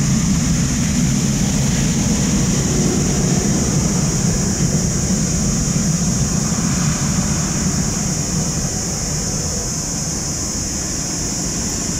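Engines of a Vietnam Airlines Boeing 787-10 blow water across a wet taxiway and apron, giving a loud, steady jet roar with a sustained high whine throughout and no voices.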